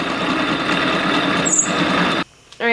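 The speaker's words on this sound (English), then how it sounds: "Drilling 9/16 for the hanging hole" A drill cuts a 9/16 hole in steel, a loud continuous grinding whine with a sharp squeal that cuts off abruptly, then a short pause and a brief rising tone.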